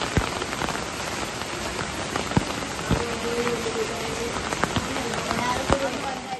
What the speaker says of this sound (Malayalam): വൈകുന്നേരം ആയപ്പോഴേക്കും നല്ല തകർപ്പ് മഴയായിരുന്നു കേട്ടോ